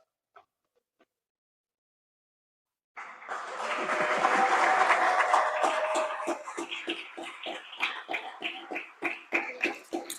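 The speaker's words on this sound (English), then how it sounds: "Can we give her bigger applause than that, please?" At a Canyon Democrats general meeting, a room full of people breaks into applause for speaker Cynthia after a silent pause; the dense clapping swells, then thins into separate claps.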